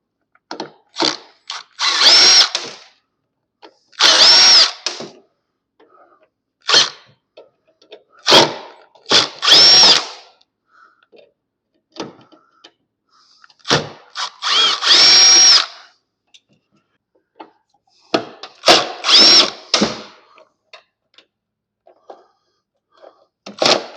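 Power drill backing screws out of an AC unit in repeated whirring bursts of a second or two, separated by short pauses, loud and close with no talk.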